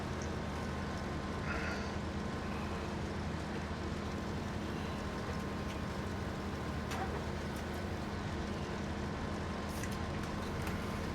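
Steady low truck engine drone from Farming Simulator 19 in a multiplayer farming session, a continuous hum running the whole time at moderate level, with a few faint higher blips over it and no talk.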